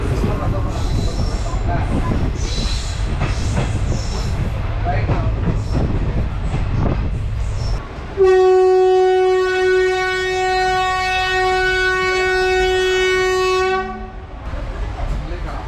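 A train stands at Parikkal station on the Trichy to Villupuram line, rumbling with background noise, then sounds a loud, sustained horn blast for about six seconds near the middle before fading back to idle station ambience.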